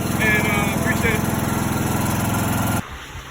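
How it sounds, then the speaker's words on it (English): A 17.5 hp Briggs & Stratton lawn mower engine idles steadily and close, its low rumble running continuously under talk before cutting off abruptly near the end. "if your lawnmower isn't running right, or if it's you know, like mine, and it was idling and it wouldn't idle long at all"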